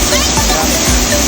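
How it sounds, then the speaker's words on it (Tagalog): A small waterfall in Palawan gives off a loud, steady rush of falling water close by, with a voice talking over it. "Maliit na waterfalls lang ito."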